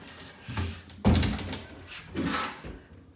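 A bifold coat-closet door being lifted back onto its track: a loud knock and rattle of the panel, with softer scuffs and clunks before and after, close by and with no talking.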